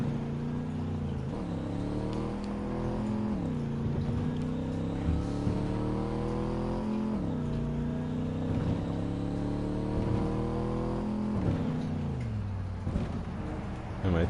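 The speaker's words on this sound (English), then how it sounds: "I like that you can just skid back and forth like that and keep going straight in this car." A car driven in Cyberpunk 2077 rises and falls in pitch as its engine revs repeatedly through skids back and forth, a steady mid-level motor drone with recurring swooping surges and no break.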